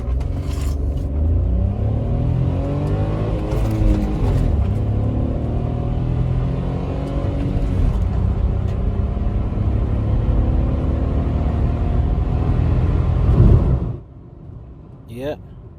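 A tiny car accelerating on a test drive, its small engine revving up through rising tones over a steady road rumble from inside the cabin, with talk over it, before the engine note drops away near the end.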